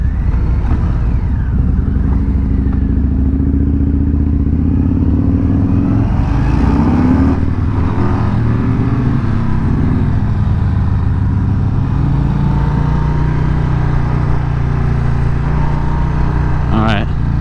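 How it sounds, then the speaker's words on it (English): A 2021 Harley-Davidson Street Bob motorcycle rumbles loud and close while riding, with throttle blips rising and falling as the rider downshifts, mixed with heavy wind noise. "you gotta blip the throttle with it when I downshift."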